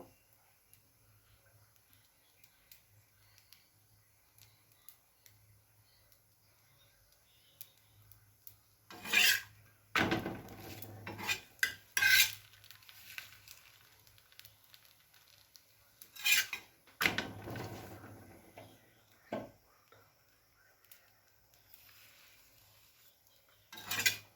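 Cauliflower florets dry-roasting in a pan without oil for cauliflower manchurian, heard as a few scattered bursts of dry scraping and rasping stirs separated by quiet stretches.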